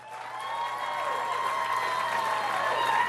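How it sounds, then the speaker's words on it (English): An arena audience at the 2016 Class D and C boys state finals applauds the two finalists, a steady wash of clapping that swells slightly and is laced with sustained ringing tones. "how about another nice round of applause for our 2 finalists?"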